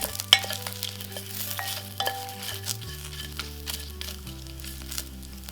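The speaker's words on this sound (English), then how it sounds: "Add herrings, anchovies, kelps, and stir constantly for 2 or 3 minutes." Herrings, anchovies and kelp sizzle and crackle in a hot pan while being stirred, with scraping and occasional clinks of a utensil against the pan.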